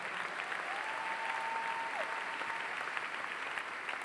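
A church congregation applauds to acclaim God, dense continuous clapping from many hands filling the room at steady volume throughout, with a faint sustained tone briefly rising above it.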